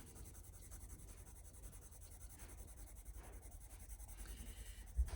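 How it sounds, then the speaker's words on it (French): A coloured pencil rubs across paper in soft, quick back-and-forth scratching strokes, faint and close, with a small knock at the end. "pour coloriser au crayon, le papier n'a pas l'air mal"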